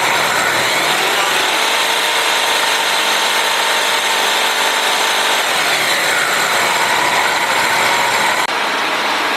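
Ford 331 stroker engine revved up and held at high rpm, a loud sustained rising whine and roar close by, briefly dropping off near the end.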